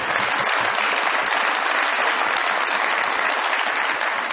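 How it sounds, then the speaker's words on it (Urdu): A studio audience applauds for guest Sana on a Pakistani comedy talk show, steady dense clapping filling the whole stretch at even loudness with no voices over it. "بہت ساری تالیاں ثنا صاحبہ کے لیے"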